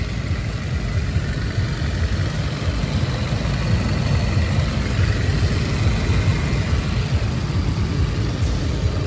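A Kia K3 2015 with a 2.0 DOHC 16V engine idling smoothly, a steady close low rumble that holds constant throughout with no revving.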